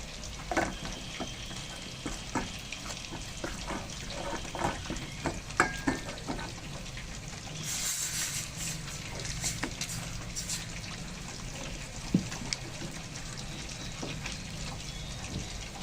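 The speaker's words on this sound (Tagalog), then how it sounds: "susunod natin lalagay dyan ay water" Chicken fries in a pan with steady crackling and occasional stirring. Partway through, water is poured in, causing a brief louder hissing splash, and then the sizzle settles back.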